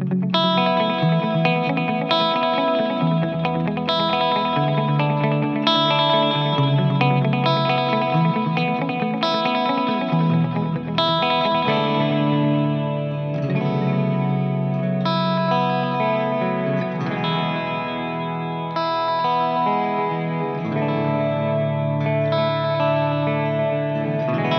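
An electric guitar through three BluGuitar speaker cabs run together as a modular 4x12, full sustained chords and riffs with effects, loud and continuous, no talking.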